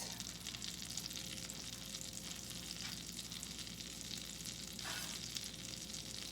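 Hawaiian rolls toast in butter on a hot skillet, giving a steady, close, even sizzle throughout with a few brief scraping swishes and no talking.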